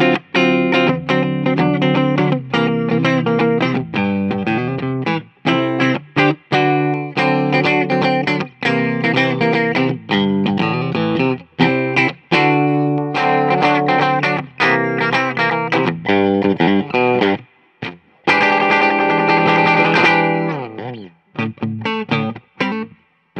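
Loud distorted 2007 Gibson Les Paul electric guitar playing riffs and chords continuously, with brief gaps between phrases and a short sustained passage near the end.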